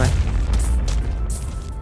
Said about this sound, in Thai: เห็นระเบิดตุ้ม